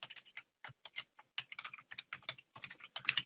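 Quick, irregular keystrokes on a computer keyboard type out a folder name, crisp close clicks in short bursts with brief pauses, no voice present.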